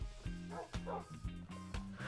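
A dog in the video game Minecraft barking in a quick regular series of about eight short yaps, close and clear over faint background.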